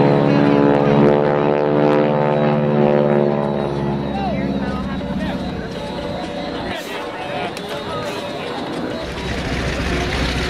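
A T-6 Texan propeller airplane performs rolls at an air show, its radial engine droning loud and steady with a rich harmonic hum throughout, swelling slightly as it passes.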